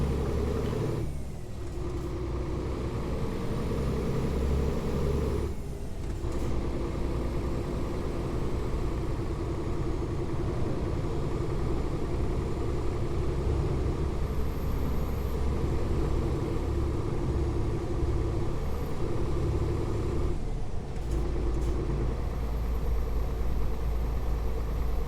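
A 450-horsepower truck engine in a trucking simulator game hums at a steady mid-pitched drone, with a few brief breaks and shifts in tone, continuous and fairly close, with no talking.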